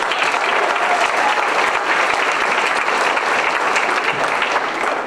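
An audience at a middle school band concert claps in a dense, sustained round of applause, loud and even throughout, with no talking over it.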